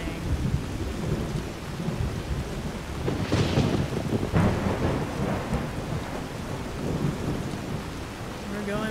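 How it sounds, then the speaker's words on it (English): Thunder rolling through a Skyrim thunderstorm: a long low rumble swelling in the middle over continuous steady rain and wind, loud and unbroken throughout. "Oh goodness, we've got thunder and lightning"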